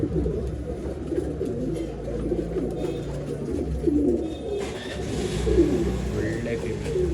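Pigeons for sale at a breeder's loft in Bangalore coo in a low, continuous murmur across the whole stretch, with several birds overlapping close by amid steady background noise and no clear speech.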